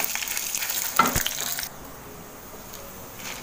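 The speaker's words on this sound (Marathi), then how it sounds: "आता या तेलामध्ये आपल्याला ही चण्याची डाळ आणि मिरच्या हे सगळ्यांना व्यवस्थित जरा 1 मिनिट परतून घ्यायचं आहे" Chana dal and green chillies frying in hot oil on a low flame, a dense crackling sizzle with a stir around the one-second mark, then settling to a quieter hiss for the last couple of seconds.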